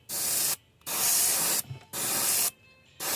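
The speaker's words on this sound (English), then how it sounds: "So we're just gonna spray that through the lines." Airbrush spraying candy paint along shell markings on crawfish baits in four bursts of steady hiss, each about half a second to a second long, separated by short pauses.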